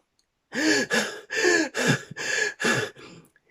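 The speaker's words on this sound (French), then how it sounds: "Respiration lourde, saccadée et faisant semblant d'être essoufflé" Heavy, jerky breathing, feigned breathlessness voiced by a person: six rapid, loud gasping breaths in quick succession, close and alone, ending in a faint trailing exhale.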